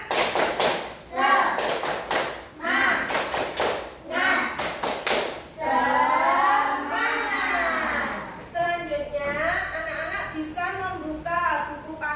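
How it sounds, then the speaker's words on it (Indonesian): Children in a classroom perform a rhythmic spirit clap (tepuk semangat): crisp bursts of group claps in set patterns, then young voices chanting along with further claps, close and lively. "Ayo, kita bersama-sama nanti tepuk semangat"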